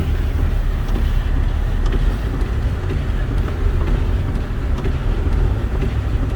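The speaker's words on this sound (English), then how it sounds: "we got a raspy exhaust, which I love" A 2007 Toyota Corolla S with about 300,000 miles keeps up a steady, raspy exhaust drone while driving, heard from inside the car as a continuous loud rumble with a dense low end and no talking.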